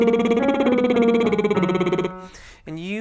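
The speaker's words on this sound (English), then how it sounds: "Starting with the lip trill, sounds like this." A baritone voice doing a lip trill warm-up, buzzing lips carrying a pitched line that steps downward for about two seconds, then a brief breath and a short rising trill; close and clear, alone.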